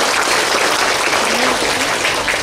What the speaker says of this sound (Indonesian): Saya minta tepuk tangan dulu dong buat panitia kita.